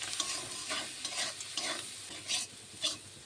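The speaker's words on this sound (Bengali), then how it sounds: "মাছ আর পেঁয়াজটিকে খুব সুন্দর করে ভেজে নিয়েছি।" Shrimp and onion sizzle steadily in a pan, with salt and turmeric added, while a spatula makes a few rhythmic scraping stirs over the constant frying hiss, close and fairly loud.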